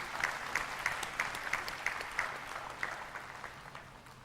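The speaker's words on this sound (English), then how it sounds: "Can we have a big round of applause, please?" An audience at a retreat's anniversary event claps steadily in a sustained round of applause, with rhythmic clapping standing out clearly and no talking.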